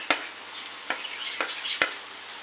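Ridge gourd and chana dal curry with turmeric and chopped tomatoes stirred in a pot, a soft continuous simmer marked by four sharp spoon knocks against the pot's side.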